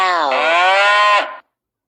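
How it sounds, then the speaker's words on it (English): A single long cow moo, loud and close, with a steady harmonic tone that rises a little and then drops away before a short silence. Part of a sequence of farm and wild animal sounds. "cow,"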